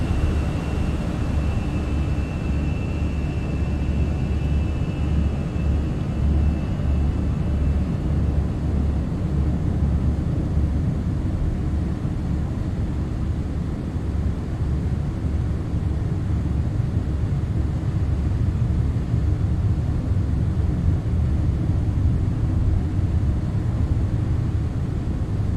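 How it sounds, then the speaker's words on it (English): Airbus A320 jet engines in the Fenix flight simulator, cruising at altitude: a steady, loud low rumble and broadband roar that holds unchanged throughout, with a faint tone present early on. "The engines should produce a different sound as we move."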